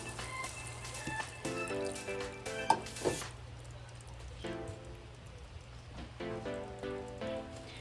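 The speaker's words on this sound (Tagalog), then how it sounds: "medyo kumukulo na siya" A pot of pork giniling simmers and sizzles steadily on the stove, with soft bubbling crackle and a few clinks of a utensil against metal.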